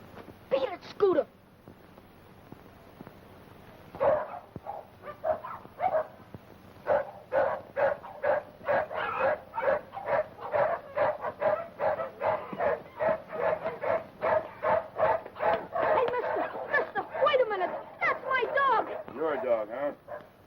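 A dog barks and yips in quick repeated bursts, with some whimpering near the end, fairly close and loud, while people talk around it.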